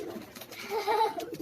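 Pigeons coo softly on a rooftop in Karachi, a brief low murmuring call near and fairly faint, with light background noise and no talk.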